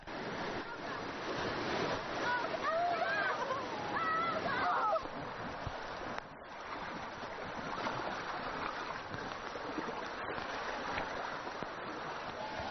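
Steady broadband rush of fast-flowing river rapids in limestone terrain after heavy rain fills the whole stretch, loud and continuous, with a brief whistling bird-like chirp early on.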